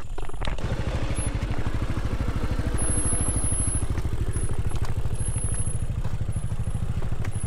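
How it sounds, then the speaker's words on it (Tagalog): A motorcycle engine runs steadily alongside on a rough mountain trail in Rodriguez, Rizal, its low pulsing drone close and continuous with faint clatter throughout. "Tapos may sabay pa tayo motor."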